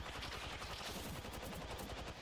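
Full-auto weapon fire in a video game, a rapid continuous stream of shots held without pause, quiet and distant-sounding with no talk over it.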